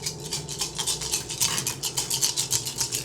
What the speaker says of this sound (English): That's the sound of 10 d6.